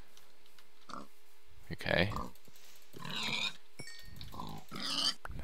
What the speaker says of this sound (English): Oh my god, there are so many pigs.